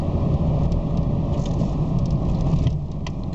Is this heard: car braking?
yes